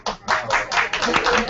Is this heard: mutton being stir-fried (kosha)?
no